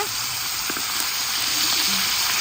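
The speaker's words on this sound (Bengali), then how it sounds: "আমি রূপচাঁদা মাছ ভাজা এখানে বসাই দিছি" Pomfret fish frying in a pan, a steady close hiss of sizzling oil that runs unbroken throughout.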